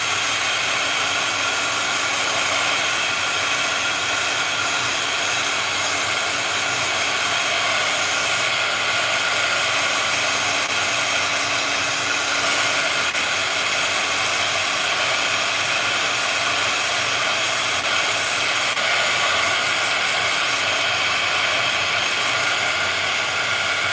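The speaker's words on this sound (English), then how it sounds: "I'm just gonna heat both of these with my heat tool" Heat embossing heat tool blowing steadily at close range, a constant loud hiss-roar of hot air that runs unbroken throughout.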